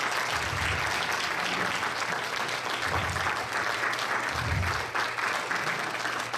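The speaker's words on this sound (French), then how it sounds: "On pourrait peut-être les applaudir" An audience applauds the members of the Cercle de fermières d'Amqui, a farm women's circle, as they stand: steady, dense clapping that fills the whole stretch without pause, with no talk on top.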